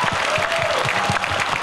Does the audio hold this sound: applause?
yes